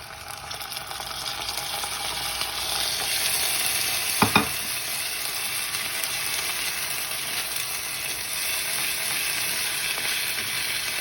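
Rice pilaf with sautéed peppers and orzo stirred and frying in a pot, a steady broadband sizzle throughout with a brief pair of sharper scraping knocks near the middle.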